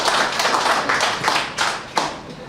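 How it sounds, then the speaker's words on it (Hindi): An audience at a Hindi comedy poetry gathering claps in loud, dense bursts, a sustained round of hand claps with no talk over it. "ताली ताली तो जोरदार बजेगी"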